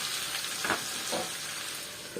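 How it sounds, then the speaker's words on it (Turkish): Steady sizzling of onions sautéing in a pan, with a few soft scrapes of stirring, close and continuous. "Soğanla beraber bu da bir kavrulsun şöyle."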